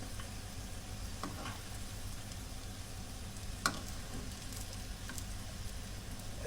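Bonito fish patties sizzle steadily in a frying pan, a close, even crackle of hot oil with a few sharp pops standing out, and no voices.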